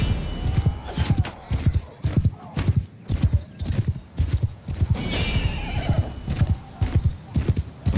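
A steady clip-clop of galloping hooves fills a Mount & Blade II Bannerlord battle, with a horse neighing now and then amid the clamor of fighting, close and loud throughout.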